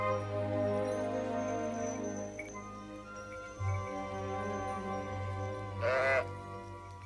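Sheep bleating in a rural pasture, a flock's wavering cries rising over a steady low drone, with one sharper, louder bleat near the end.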